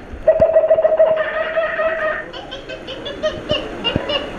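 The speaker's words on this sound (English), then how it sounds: "Suddenly, the treetops explode in a frenzy of outraged birds." Animated birds squawking and cooing in the treetops of Disney's Enchanted Tiki Room attraction, a burst of chirps, whistles and laugh-like calls close and lively, with a sustained piping note and sharp clicks.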